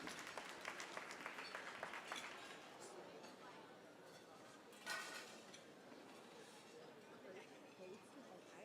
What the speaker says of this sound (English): Round of applause for Calvin Leung.